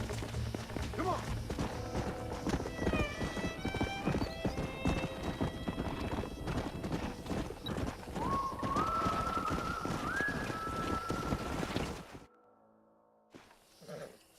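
Horses galloping in Red Dead Redemption, a rapid, dense clip-clop of hooves that runs nearly continuously and loud, with neighing and other game sounds mixed in before it cuts to near silence at the end.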